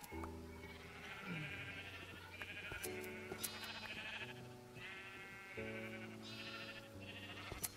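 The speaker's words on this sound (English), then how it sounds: "Got emerald sheep." Emerald sheep from the Ore Sheep mod bleat in a video game, several repeated wavering bleats over a steady backdrop of in-game music, fairly close and continuous.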